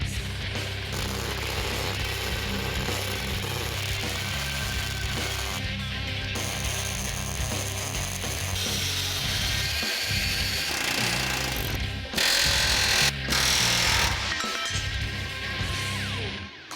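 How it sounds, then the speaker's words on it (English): Welding the overlapping halves of a Mazda B2500 pickup truck frame in a shop, a dense, steady crackling and buzzing roar that runs throughout with brief dips and a louder surge near the end. "we're going to weld this up and make it solid."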